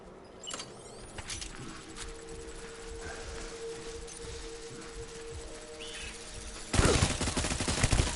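Gunfire in the video game Death Stranding, a steady rumbling combat bed with scattered shots that swells into a loud, dense burst of firing near the end.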